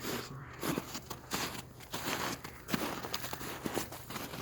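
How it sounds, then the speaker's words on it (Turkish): Footsteps crunching through snow, a steady series of close, crisp crunches over a low background hum. "Kar çiğneme."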